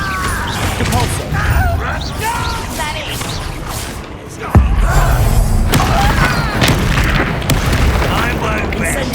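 A spellcast in Hogwarts Legacy on PS5 fires off a sudden heavy boom and crash partway through, amid dense battle effects, thuds and shouting voices.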